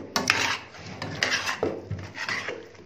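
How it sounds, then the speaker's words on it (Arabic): Chicken marinade with black pepper and spices being turned and mixed in a bowl, giving soft wet rubbing and light scraping in a few uneven strokes, close and fairly quiet, with no voices. "وهقلب التتبيله كلها مع بعضها كده"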